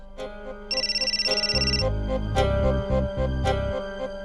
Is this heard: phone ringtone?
yes